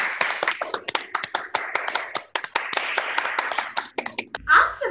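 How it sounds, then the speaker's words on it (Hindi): Audience applause greeting a family arriving at a school Teej celebration: a dense burst of clapping from a crowd, fairly distant and steady, fading with a short sound at the end. "जोरदार तालियों से उनका स्वागत करें"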